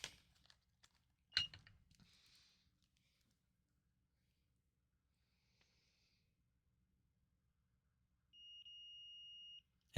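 A multimeter gives a continuity test beep while probing a Wii U board, a single steady tone of about a second near the end of mostly quiet handling noise, with a few faint clicks before it.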